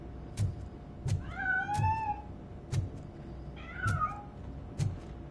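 A cat meows twice in a video game scene, each a rising-falling wail, over a low ambient hum punctuated by regular muffled thumps.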